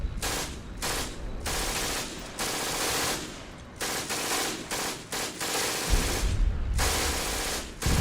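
Machine gun fire as a battle sound effect in a French war audio drama: loud, dense bursts of rapid automatic shots broken by brief pauses, with no talking over it.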